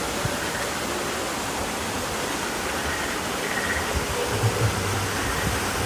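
A waterfall at Pandora in Animal Kingdom roars as a steady broadband rush of falling water, constant and fairly loud throughout, with no speech on top.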